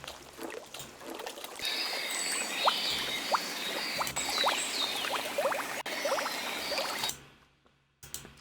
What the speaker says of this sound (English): and some bubbles.